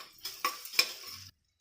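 Chopped onion sautéing in a pan for Kongu-style rice and dal, heard as a brief burst of soft sizzle with a few sharp metal scrapes and clinks of a spoon against the pan, close and fairly quiet, ending abruptly.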